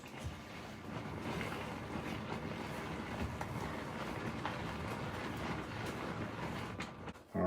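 A Tupperware hand-spun chopper whirls through a pumpkin, oatmeal and apple waffle batter, making a steady, close rushing whir that runs without pause and ends abruptly.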